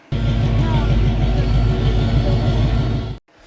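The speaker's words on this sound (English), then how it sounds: "throaty V8." The throaty V8 of an American muscle car roars loud and steady for about three seconds, then cuts off abruptly into near silence.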